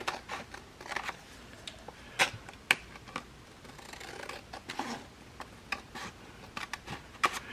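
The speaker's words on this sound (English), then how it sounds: "Let's go ahead and trim it and make my scissors nice and gooey." Scissors snip and rustle through paper being trimmed for a decorated journal envelope, giving scattered sharp cuts and soft crinkles, close and dry with uneven pauses between them.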